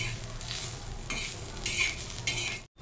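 Onions sizzle in a hot pan while a spoon stirs and scrapes them in short bursts. The sound is close, a steady frying hiss broken by rhythmic stirring strokes, and it cuts off abruptly at the end.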